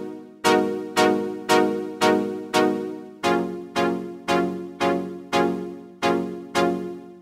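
A UVI Falcon synth patch of sawtooth with a square sub oscillator and noise underneath plays a dry, even sequence of about a dozen plucky notes, each sharp attack fading quickly, loud and alone.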